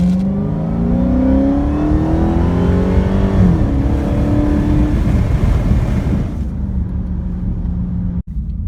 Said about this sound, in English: we're going to do a 0 to 60 run on echo mode.